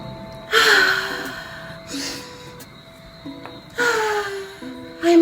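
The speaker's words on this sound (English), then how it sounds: "Take some deep breaths" Deep breaths, close and loud, come in slow cycles: a long inhale and exhale, a pause, then another long breath and one more starting at the end.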